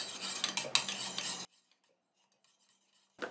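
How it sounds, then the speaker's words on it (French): A face lotion mixture for evening skin tone is stirred in a container, with quick clinking and scraping for about a second and a half, then silence and a brief return of stirring at the end. "Je viens mélanger"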